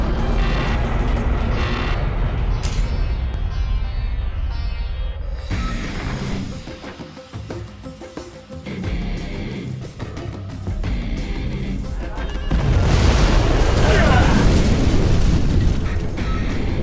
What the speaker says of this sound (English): Launching nuclear missile.